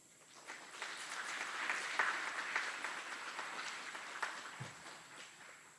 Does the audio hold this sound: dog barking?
no